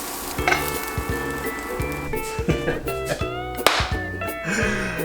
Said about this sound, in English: We're just gonna sear it on all the sides, get a nice crust going.